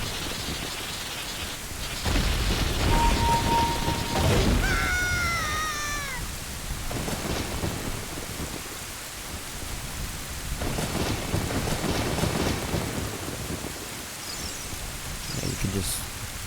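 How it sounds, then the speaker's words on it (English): A summoned storm in The Legend of Zelda: Ocarina of Time breaks over a graveyard: rumbling thunder crashes and steady rain hiss, with rising melodic game tones early on, swelling and fading in loud waves. "by playing this, we can summon a storm, which will in turn break this grave"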